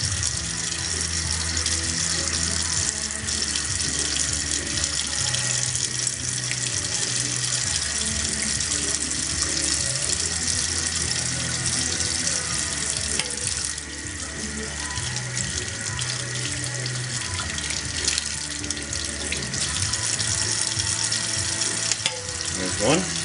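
Hot water pours steadily from a tap in a steady, loud, unbroken rush, part of a glass-ring cutting project with a bottle cutter.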